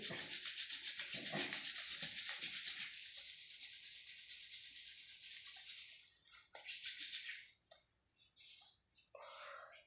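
Soft, close, steady rubbing of both palms against each other and over the face and eyes during a yoga exercise, a faint rhythmic hiss that thins into scattered strokes near the end.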